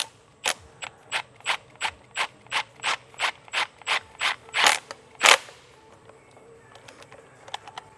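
A ratchet with an 11 mm socket tightening a T-bolt clamp during a Nissan 370Z supercharger install, about fourteen evenly spaced clicking strokes up close, ending in two heavier final clicks, then quiet.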